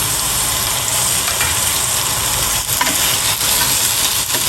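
Garlic cloves going into a pan of chicken biryani ingredients already frying, a steady close sizzle with stirring and scraping that runs continuously and loud throughout.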